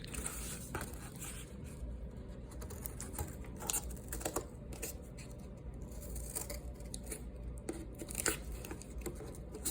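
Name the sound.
cutting out a cardboard wing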